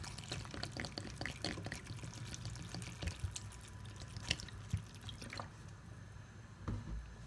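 Water is poured and dribbled into a cooking pot, a faint run of splashes and drips, quiet and close, with no talking.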